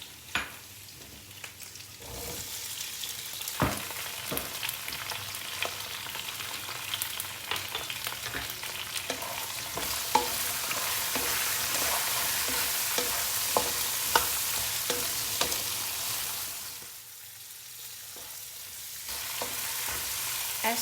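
Black pepper sausage and other ingredients stir-fry in a pan, a continuous close sizzle with scraping and clinking of the spatula, briefly quieting near the end before the hiss resumes.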